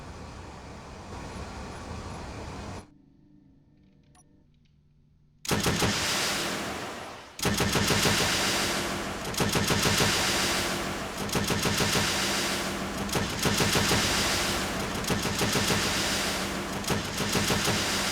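Weapons test-firing in Space Engineers: after a quiet gap, a loud sustained rattle of rapid automatic fire runs for over ten seconds in dense, pulsing bursts close by.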